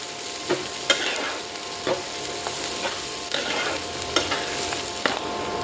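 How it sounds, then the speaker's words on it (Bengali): Shrimp frying with onions in a pan: a steady sizzle broken by regular scraping strokes of a spoon stirring about once a second, close by and with no voices. "পেঁয়াজের সাথে এই মাছগুলো এখন ভাজি হবে।"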